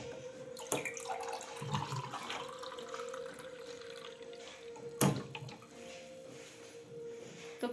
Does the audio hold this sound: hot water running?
yes